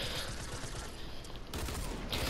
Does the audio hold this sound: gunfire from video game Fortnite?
yes